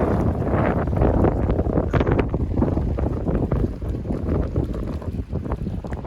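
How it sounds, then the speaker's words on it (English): Strong wind funnelling through a mountain gap on a hiking trail buffets the microphone in heavy, continuous gusts, a loud roaring rush with no voices. "it's a very, very windy spot because the wind comes through this gap"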